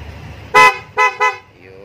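PIA horn on a vehicle sounded for a check: three loud, close honks, one longer blast then two shorter ones in quick succession, with quiet background between.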